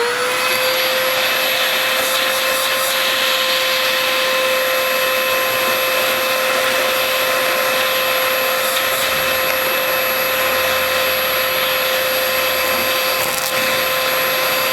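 A Bissell Power Force vacuum cleaner sucks up leaves, probably around a van, with a loud, steady motor whine and high tone that runs unbroken for about fifteen seconds, with no speech.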